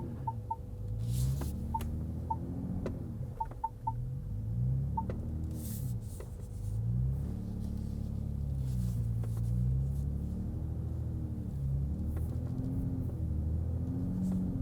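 A 2022 Ford Raptor straining to climb a slope off-road: low engine drone that rises and falls in repeated waves as it labours, with a few faint electronic beeps early on and no talking.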